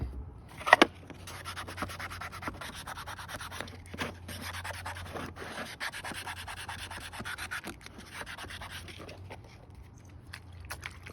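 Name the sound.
wet sanding hazy solar yard light panel with sandpaper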